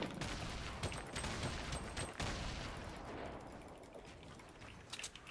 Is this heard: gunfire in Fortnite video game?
yes